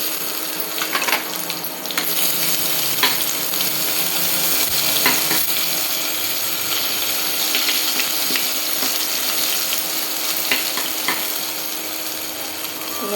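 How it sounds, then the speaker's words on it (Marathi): Ginger garlic paste and cumin seeds tempering in hot oil in a kadhai for rajma, giving a steady, close hiss of frying sizzle with scattered crackles and pops throughout, no talking. "आता आपण ह्याला फोडणी करून घेऊ"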